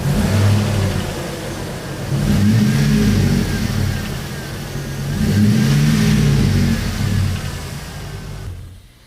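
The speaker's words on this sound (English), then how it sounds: "Rev it a couple times." The engine of a 2002 Chevrolet is revved twice from idle, two loud swelling roars that rise and fall back, heard up close with no talk.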